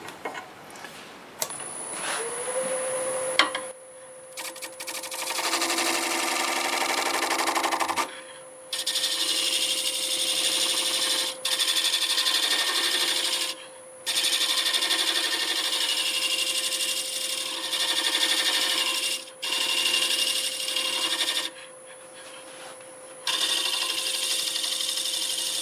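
Rasping and scraping of a wood lathe tool smoothing bark off a spinning turned blank, loud and steady in long passes with several short pauses, over a constant motor whine.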